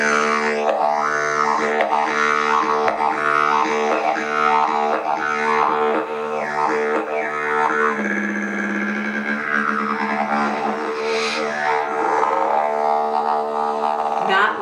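A didgeridoo drones on continuously with a low steady fundamental, its overtones sweeping and shifting as the player shapes the sound, loud and close throughout with no talking.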